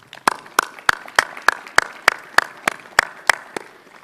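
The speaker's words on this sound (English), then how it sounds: "A round of applause for them too," Crowd applause at a 2020 high school commencement for Indian Hill, with strong, evenly spaced claps ringing out about three times per second, clear and close with a short echo behind each one.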